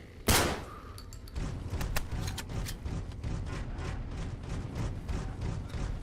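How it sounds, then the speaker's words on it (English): A suppressed shotgun fires in Fallout: New Vegas with one loud, sharp blast near the start, followed by a rapid string of crackling gunshots and thuds over steady game noise, with no talking. "Yeah, it's a suppressed shotty."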